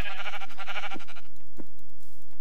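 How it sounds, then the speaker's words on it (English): A sheep bleating in the video game Minecraft, a bright wavering bleat followed by two short low thumps, close and clear over a faint game background hum. "Come here, sheep."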